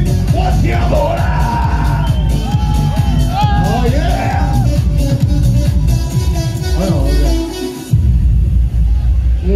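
A festival crowd at an outdoor stage dance show during a Nantou city god cultural festival yells, whoops and cheers loudly and continuously up close, with a brief dip near the end before the roar resumes.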